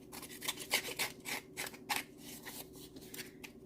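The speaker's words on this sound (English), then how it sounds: "These probably aren't the best scissors for it" Repeated scissor snips and rasping cuts along paper, an irregular series of short crisp bursts over a faint steady hum, close up.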